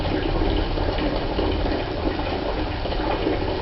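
Water leaking from a water heater installation gives a steady, close rushing hiss that runs unbroken the whole time with no voices.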